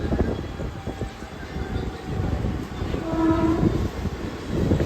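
Rumbling train carriages rolling with rattling and screeching brakes as the train comes to a stop at a station, a brief tonal squeal midway as it slows.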